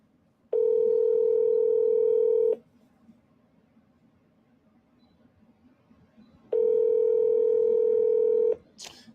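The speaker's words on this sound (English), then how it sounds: "Your call has been forwarded to voicemail." A telephone line tone plays as a call is forwarded to voicemail, with two long steady beeps of about two seconds each separated by a quiet gap, loud and clean with no voices.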